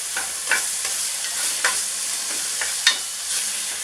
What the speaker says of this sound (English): we're going to cook off this bacon until it's fried